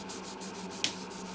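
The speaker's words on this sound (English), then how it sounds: "I'll use my Trizac pad with a little Simple Green as a lubricant and just polish." A Trizact pad wet-sands a musical instrument finish with Simple Green as the lubricant, producing a steady, rhythmic swishing rub in short regular strokes, close and even, with one small tap partway through.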